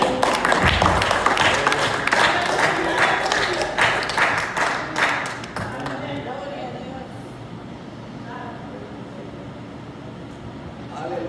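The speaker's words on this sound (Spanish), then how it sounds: "Denle un aplauso en esta noche, hermano." Congregation at a church sermon bursts into applause, dense clapping for several seconds that thins out into a quieter murmuring room with scattered sounds.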